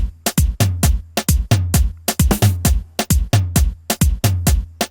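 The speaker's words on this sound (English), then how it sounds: "I have one more snare here. I'm gonna play it." Snare drum beating out a soca pattern, a quick syncopated run of sharp, dry hits with short gaps, played loud and close with no voices.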